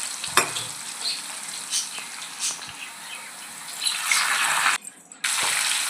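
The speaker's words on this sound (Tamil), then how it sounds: "திரும்பவும் பொரிச்சுதை திரும்பவும் ஃப்ரை பண்ண போகிறோம்" Plantain chips go back into hot oil for a second fry, giving a steady close sizzle and bubbling with occasional stirring scrapes and one brief drop-out near the end.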